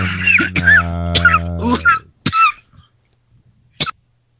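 A voice sustains a tone before a short, sharp cough follows, then quiet with another brief throaty burst near the end.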